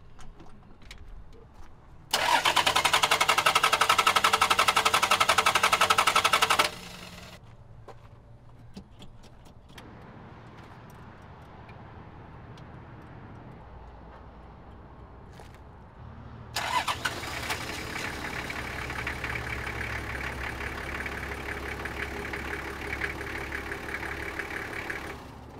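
A Toyota Troopy engine cranks and catches loudly close by, runs for a few seconds and cuts out, then fires again and settles into a steady, rough idle that continues to the end.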